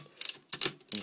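A 1940s Remington Rand Standard typewriter's platen knob turned to roll paper, its ratchet giving three quick bursts of dry, close clicking separated by brief pauses.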